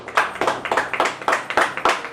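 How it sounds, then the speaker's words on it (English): A small studio audience applauding guests on a business-themed talk show, brisk rhythmic claps in a short close burst of about two seconds. "a big round of applause to all our guests"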